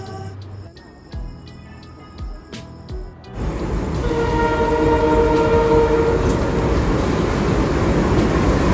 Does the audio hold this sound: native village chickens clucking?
no